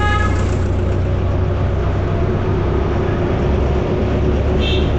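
A tractor horn sounds near and loud in a brief tonal burst at the start, then a steady, heavy engine rumble continues throughout, with another short high tone near the end.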